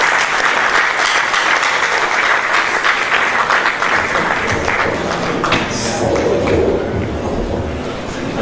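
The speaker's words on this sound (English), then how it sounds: "Please give him a round of applause." An audience at a geography alumni lecture and award ceremony applauds steadily for a retired professor, a dense, even wash of many hands clapping that carries on for the whole stretch without fading.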